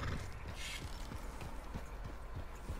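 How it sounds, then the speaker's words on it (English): Horse hooves stomping around while riding during a rabbit hunt in a game, a quick irregular series of soft thuds and clops, fairly faint and close, with a brief higher rustle and no talking. "I think I may have to get off my horse. We're stomping around too much to hunt a rabbit."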